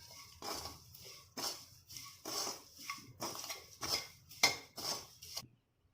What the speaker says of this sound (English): Now off the stove, add the tamarind and stir it until it is cool.